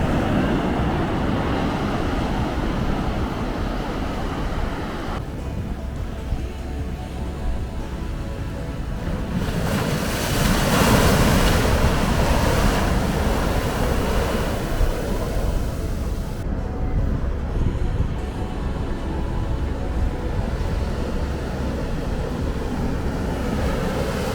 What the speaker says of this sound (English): Big waves coming.